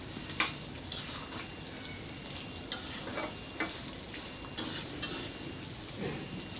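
Country chicken curry cooking with chana dal in a pan gives off a soft steady sizzle while it is stirred, with intermittent scrapes and light clinks of a spoon against the pan, faint and close.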